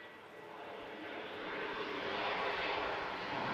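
An airplane's engines roar into a takeoff run at Washington Dulles airport, a broad steady rumble that swells louder over a few seconds and stays heavy.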